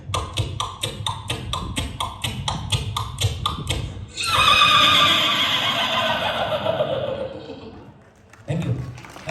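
A comedian on stage at a comedy show imitates a horse with his voice, first a run of rhythmic clip-clop hoof beats, then a loud, long, wavering neigh, followed by a brief vocal burst.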